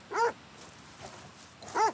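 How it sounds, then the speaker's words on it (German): Dogs barking in the video game Red Dead Redemption 2, two loud, close barks spaced well apart with faint yelps between them. "Ja, und die Hunde kommen jetzt schon auf uns zu."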